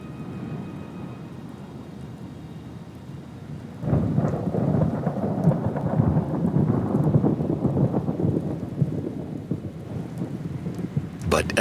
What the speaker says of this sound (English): But at last the rains arrive and the seeds sprout.